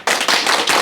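Seated audience at a National Assembly book club author lecture breaks into dense, steady applause, loud and close, filling the moment with no voices on top.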